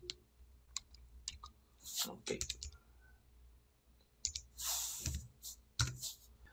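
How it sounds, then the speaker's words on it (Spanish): Someone types an IP address on a computer keyboard, giving scattered, quiet key clicks in short clusters, with brief bursts of louder handling noise in between. "vamos a teclear la dirección IP"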